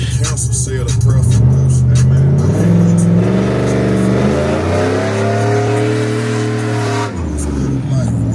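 A turbocharged GMC Sierra truck with a built 4L80E transmission and 3.73 gears does a test launch, its engine revving loud and close with rising pitch as it pulls away, then easing off near the end.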